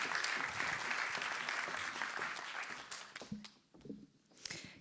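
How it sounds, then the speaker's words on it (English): Warm audience applause at an evening event on immigration with a US ambassador and Polish consul, steady dense clapping that thins out and fades toward the end. "Can I have a warm applause for Shefali Razdan Dugal?"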